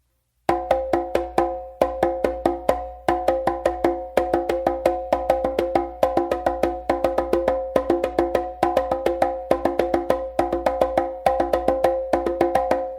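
Open slaps on congas ring out in a fast, steady stream of crisp, resonant hits grouped into repeating bars, played close and loud with no voices.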